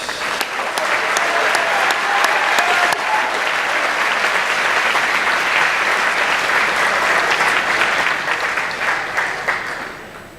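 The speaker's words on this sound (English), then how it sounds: "Let's give these guys a round of applause." Audience at a school awards day giving a long round of applause for award winners, a loud, even wash of many hands clapping that runs steadily for about ten seconds before fading at the close.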